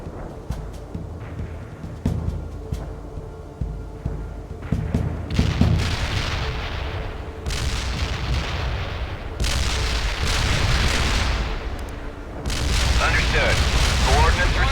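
Mortar fire in the real-time strategy game World in Conflict: a run of heavy booms and explosive bursts thuds through the scene amid battle noise, with radio-style voices talking over it.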